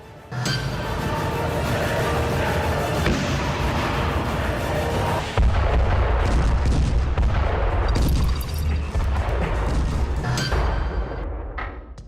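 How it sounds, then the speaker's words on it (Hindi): T-90 main battle tank's 125 mm cannon, a heavy deep blast midway through amid continuous loud rumbling and crackling noise. "इसकी सबसे बड़ी ताकत 125 mm की ये कैनन है।"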